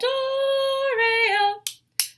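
A sung Sarasponda phrase trails off into two crisp clicks of rhythm sticks tapped together, each short and near, spaced roughly a third of a second apart.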